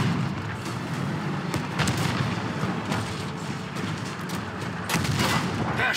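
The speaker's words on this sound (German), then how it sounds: "Der Schuss ist abgeprallt." Heavy booming tank cannon shots in a World War II video game battle, several blasts over a dense, continuous rumble of combat noise.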